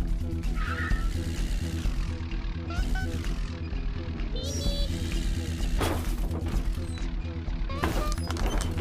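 A car in the golf video game What the Golf drives and skids along a street. Continuous engine roar and tyre squeal run with scattered game effects, under someone talking throughout.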